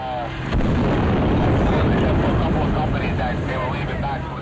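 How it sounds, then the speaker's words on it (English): Explosion sounds recorded near Ground Zero in New York after the Twin Towers fell and before Tower 7 collapsed, heard as a loud, continuous rumbling roar with scattered pops, dense and noisy throughout, with no clear speech. "those sounds of explosions recorded after the Twin Towers had fallen, but before Tower 7's collapse"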